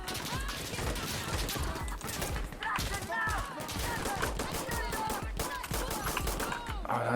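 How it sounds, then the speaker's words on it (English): Rifle fire in a tactical shooter game, rapid sharp cracks and bursts of shots scattered throughout alongside crashing impacts, fairly close and dense with faint talk. "Oh, that's a sniper now."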